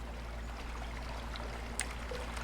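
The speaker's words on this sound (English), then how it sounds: "It's a waterfall." A waterfall in the fantasy video game Adrullan gives a steady, even rush of falling water, with no voices over it.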